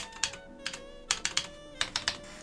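Keycaps being pressed onto a vintage Alps mechanical keyboard build, giving irregular clusters of crisp plastic clicks close by over a faint steady tone, without speech.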